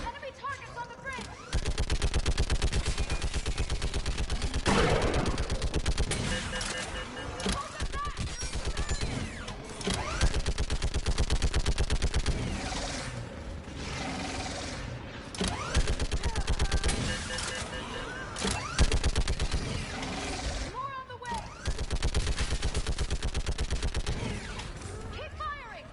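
Sustained rapid gunfire from a Mass Effect space battle, dense bursts running almost continuously with brief gaps, loud and close, with game voices shouting orders over it.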